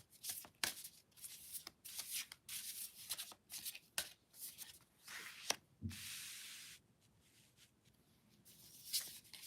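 A deck of cards is shuffled for a card reading in repeated quick riffling bursts, close and crisp, with a longer smooth riffle midway and brief pauses between shuffles.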